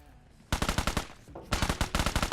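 Automatic gunfire in PUBG comes in two rapid bursts of about half a dozen sharp, evenly spaced shots each, loud and close, separated by a short pause.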